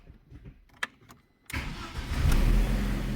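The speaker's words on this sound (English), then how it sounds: "Now we start the vehicle." A BMW Series 1, 3 or 5 starts after brake pad wear sensor work: faint clicks and quiet handling, then a sudden starter crank and the engine catching into a steady, louder idle nearby.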